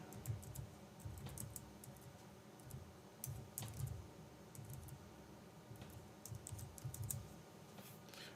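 Someone types on a computer keyboard while editing a file in vim, a quiet, irregular patter of key clicks in short bursts and pauses, close but faint.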